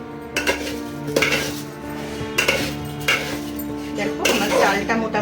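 A metal spoon scrapes and clanks around a pot of coloured rice being stirred for pulao, with repeated close scraping strokes and clinks and a steady hum underneath.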